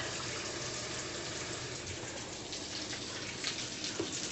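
Water pours steadily into a pot of grits being cooked for a big Southern breakfast, a soft continuous running and splashing sound heard alone at close range.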